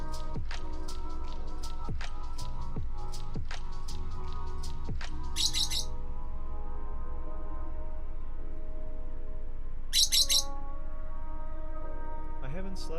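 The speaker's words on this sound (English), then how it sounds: "Bird caught on camera." Birds chirp faintly outside an open window, with a couple of short high bursts of song standing out over a quiet indoor background with scattered soft taps.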